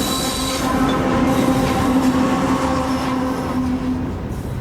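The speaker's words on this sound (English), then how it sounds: "The train was so loud that the man didn't hear the other one coming" A loud train passes close by, a continuous heavy rumble with metallic wheel squeal and steady clatter that fills the whole stretch.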